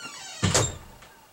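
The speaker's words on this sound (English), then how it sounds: "That door makes me crazy." A door opening or closing indoors, one short thunk with a squeak or slide, near and moderately loud, then quiet.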